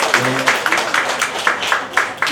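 Applause from a church middle school youth group congregation at a Sunday worship service, a steady patter of many hands clapping for the memorizing students, moderately loud and continuous for a couple of seconds.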